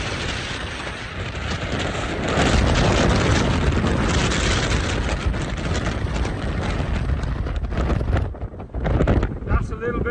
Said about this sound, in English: That's a little bit windy, folks.